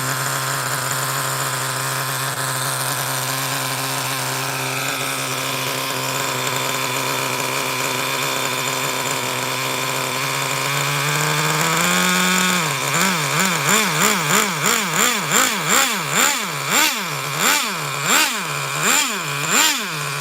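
A nitro engine on a MudBoss runs at a steady high-pitched buzz, then revs repeatedly in rhythmic rising and falling surges, loud and close with no talking.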